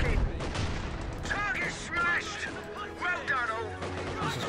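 Battle gunfire from Company of Heroes 2 crackles in scattered rounds under near-constant voices talking, with muffled distant shots and impacts spread across the moment.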